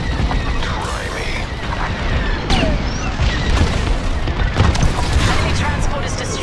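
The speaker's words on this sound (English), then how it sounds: "Enemy transport is destroyed." An enemy transport explodes in the Star Wars: Squadrons space-combat video game, with booming blasts and rumbling detonations over a constant roar of battle and scattered sharp crackles.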